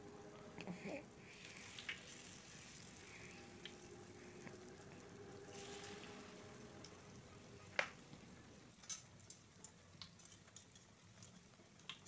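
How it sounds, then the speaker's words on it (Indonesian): Vegetable fritters (bakwan sayur) frying in hot oil give a steady, quiet sizzle, with a few sharper pops and crackles near the end and no talking. "Setelah minyak panas, kita goreng."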